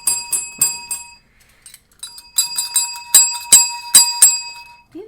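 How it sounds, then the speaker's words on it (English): A bright bell rings in quick clusters of metallic dings, with a short pause in the middle before the ringing resumes. The strikes are close and loud, with no voices. "Do you not know Jason likes to hit the bell?"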